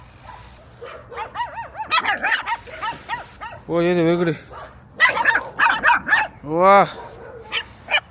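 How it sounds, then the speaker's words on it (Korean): Several countryside dogs bark and yip in a mix of deep and high barks, some with whining notes, heard from a passing bicycle while someone talks over them. "멍멍이다 멍멍이."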